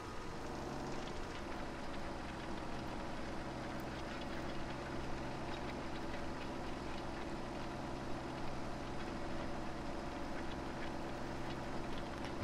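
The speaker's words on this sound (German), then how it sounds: "Hier sieht man richtig, wie schwer sich der Traktor tut, hier diese leichte Steigung zu nehmen" Tractor engine in Farming Simulator 17 labouring up a gentle slope, a steady low drone with a constant hum and little variation in level, heard alone throughout.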